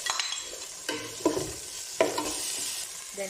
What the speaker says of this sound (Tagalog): Igisa na natin ang bawang sibuyas.